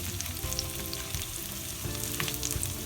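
Garlic fries in hot oil for saag bhaji, a steady close sizzle and crackle with a few soft stirring scrapes, no voices over it.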